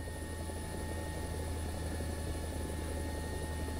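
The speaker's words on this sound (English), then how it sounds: "Let's see if we can help out this chopper." Helicopter in a video game, a continuous steady rotor drone with a constant high whine, even and moderately faint throughout, no voices.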